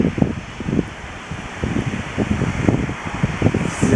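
Gusty wind buffets an outdoor flat commercial roof in Detroit, a broad rushing roar with uneven low rumbling bursts against the microphone throughout, loud and close with no talking.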